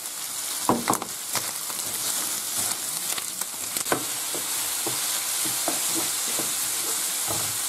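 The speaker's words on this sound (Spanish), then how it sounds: "ahora echamos las gambas. Y las rehogamos también" Prawns for arroz a banda sautéing in a hot pan, a steady broadband sizzle with scattered sharp crackles and pops and occasional stirring scrapes, close and continuous throughout.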